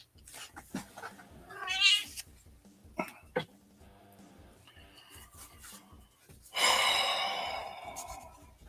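A cat meows and caterwauls in a string of close cries with breathy pauses between them, ending in a louder, drawn-out wail.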